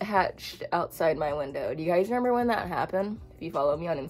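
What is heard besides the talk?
No everyday noise stands out behind the speech.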